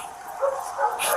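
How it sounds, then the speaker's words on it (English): Big dogs bark and yip at a distance, several short overlapping calls within about a second, fairly close and loud against a quiet background. "God, that sounds like bigger dogs."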